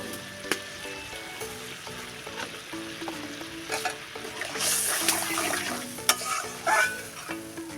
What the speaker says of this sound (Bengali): এইখানে আমার বেগুনটা জলটা ফুটে গেছে আর বেগুনটা খুব সুন্দরভাবে ভাজা হয়ে গেছে